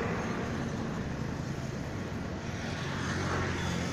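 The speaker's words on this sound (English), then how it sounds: "See this high speed car. It will be crossing the truck." A high-speed car, moving at about 130, passes a truck on a six-lane city ring road, under a steady, loud, broadband roar of nearby traffic with no voices.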